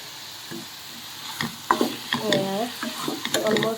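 Sugar frying in a pan, stirred steadily with a spatula, giving a continuous sizzle under repeated close scraping strokes that grow busier toward the end.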